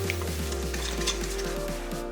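Seasoning of anchovy fish sauce, vinegar, syrup and chili powder is stirred together in a bowl with rhythmic, evenly spaced scraping strokes over a low steady hum, close up and without talk.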